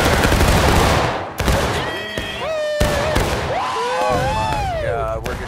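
A loud volley of massed gunfire in a line-infantry video game battle opens the clip, followed by whistling, pitch-bending tones and a noisy crackle, with shouted voices underneath.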